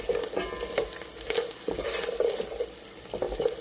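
Cashews, peanuts, green chillies, grated ginger, chana dal and cumin frying in oil for upma, a steady sizzle under repeated spoon stirring and scraping against the pan, close and moderately loud.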